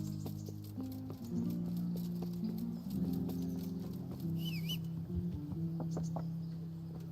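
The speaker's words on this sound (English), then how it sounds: "Hello, horse." A horse's hooves clip-clop in the medieval video game Kingdom Come: Deliverance, a soft irregular patter under steady background music with no talking.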